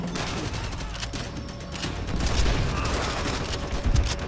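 Gunfire in the Call of Duty: World at War mission "Burn 'em Out", with dense overlapping shots and bursts running throughout, loud and busy with no clear pauses.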